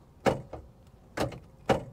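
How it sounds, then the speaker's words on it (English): An old Cadillac door, in a car that sat for 20 years, is pulled shut: a few short, muffled thuds and clunks at moderate loudness, close by, with no talking. "let's pull this door closed"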